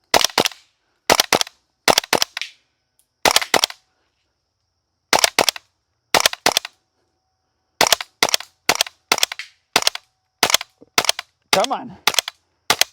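A WE L85 gas blowback airsoft rifle fires sharp, loud cracks in quick pairs and small clusters separated by silent gaps, with a brief spoken remark partway through.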